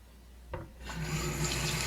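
Water from a tap runs over a car part from a 1968 Mercury Cougar as it is rinsed, a steady close hiss and splash starting after a brief knock.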